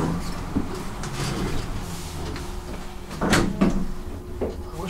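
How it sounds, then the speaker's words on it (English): A vintage Dover hydraulic elevator's metal door slides open along its track with a rumbling scrape and a couple of clunks, close by, in a run-down parking garage in Roanoke. "Just press the door all the way open."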